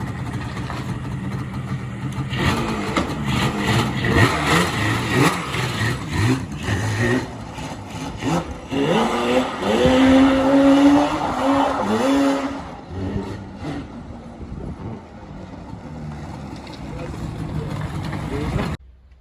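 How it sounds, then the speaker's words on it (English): A Yamaha Banshee ATV engine starts cold and revs, its loud raspy two-stroke note rising and falling in bursts, with voices talking over it throughout. "so the Banshee, we'll do a cold start. Everything's cold"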